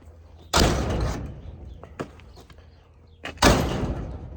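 A worn barn or shed door on a farm, in need of repair, bangs shut twice in loud, near rumbling thuds about three seconds apart, with small knocks and rattles between them.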